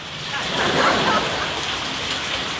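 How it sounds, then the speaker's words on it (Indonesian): Heavy rain pours down steadily, a loud, close, continuous hiss of drops with no break throughout. "Iya emang hujan mak."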